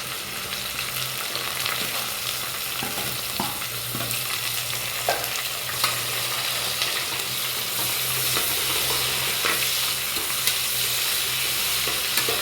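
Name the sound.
onions sautéing in a pan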